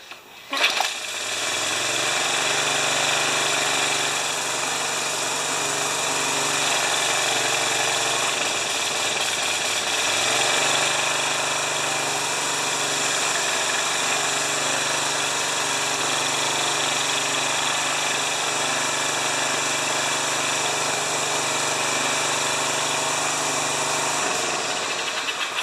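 A Briggs pressure washer engine runs at a low, steady speed, failing to rev up as though something is catching, giving a constant buzzing drone that hardly changes for about twenty-five seconds.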